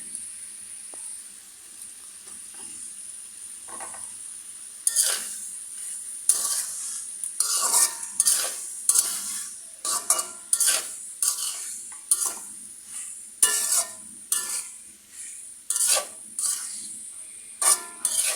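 Noodles with their spice mix being stirred in a pan, giving a run of repeated scraping and clinking stir strokes over a faint steady sizzle. The strokes grow busier in the second half.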